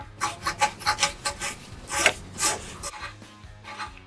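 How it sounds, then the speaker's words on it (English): A heim joint is backed out of a traction bar on an L5P truck, a string of short scraping, rubbing strokes of metal on thread at close range, uneven in spacing with brief gaps. "we're gonna back it out 7 turns"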